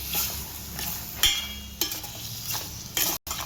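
Chicken liver stirred in hot oil in a pan, sizzling hiss with a few distinct scraping strokes of the spoon, close and alone without talk.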